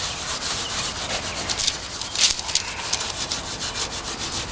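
Stiff scrubbing of grease off the engine bay of a 1973 Dodge Charger, a close, loud, continuous rasping rub with rhythmic back-and-forth strokes and no talking.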